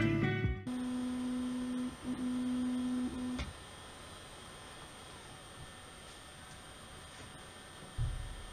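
A Bambu Lab A1 Mini 3D printer printing PLA runs nearby, with a steady tonal motor whine that cuts off early, leaving a low mechanical hum and faint ticks.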